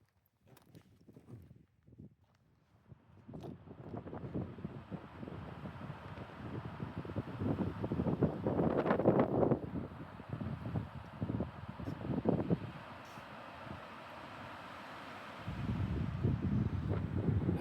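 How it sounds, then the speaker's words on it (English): Strong gusts buffet the microphone on an exposed desert cliff hike, a loud continuous low roar that swells and surges throughout, with footsteps crunching underneath. "I mentioned how bad the wind is."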